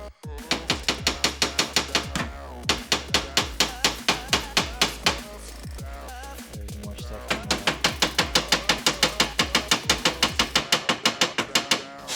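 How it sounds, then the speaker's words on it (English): Rapid, sharp metallic hammer blows land on a part in the engine bay of a Subaru Impreza being stripped for a V10 swap, coming in quick regular bursts with a short pause midway. "Where's a hammer? Hammer solve everything."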